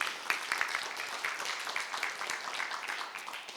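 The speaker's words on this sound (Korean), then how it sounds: "동의하시면 박수 한번 주세요." An investment seminar audience claps together in a steady, moderately loud burst of applause lasting a few seconds.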